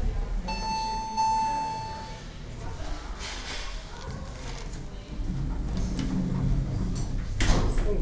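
Hydraulic Otis lift doors in a shopping mall slide with a low rumbling and scraping, ending in a sharp thud, after a brief chime at the start, all under steady indoor background noise.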